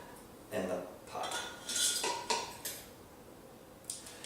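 A small metal steamer basket is set down inside a cooking pot while making mashed cauliflower, giving several close clinks and metallic scrapes in irregular bursts, then a single faint tap near the end.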